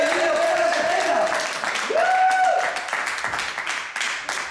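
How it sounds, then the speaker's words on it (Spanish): An audience applauds loudly to welcome a guest on stage. The steady clapping fills the whole span, with a few tonal voices or whistles rising above it. "¡Un fuerte aplauso para ese hombre!"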